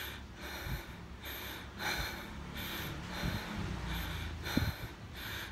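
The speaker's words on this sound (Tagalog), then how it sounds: "So hingal na hingal ako." Heavy, rhythmic panting after a cardio workout: repeated loud breaths in a steady pattern, close to the microphone, with no speech.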